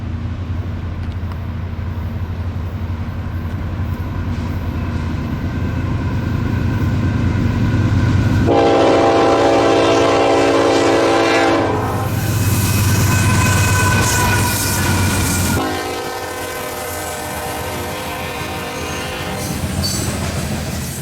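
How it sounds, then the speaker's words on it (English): A long, loaded grain freight train rumbles past close by, wheels clattering and squealing, with loud metallic ringing and screeching as the cars roll through. "a loaded grain train passing through the last rays of sunlight"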